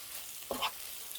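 Aged kimchi stir-fried in a hot pan over high heat gives a brief, moderately quiet burst of sizzling and scraping midway, with near silence around it.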